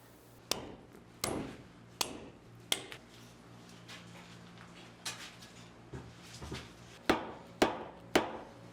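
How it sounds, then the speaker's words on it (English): Gouge cutting spinning wood on a lathe turning at about 1,200 to 1,300 RPM: sharp knocks and cracks recur every second or so over a steady background hum and whir, close and fairly loud, with no talking. "When we're actually cutting, the wood's moving about 25 miles an hour underneath the tool tip."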